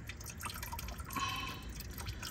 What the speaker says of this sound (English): And then just wait for it to drip dry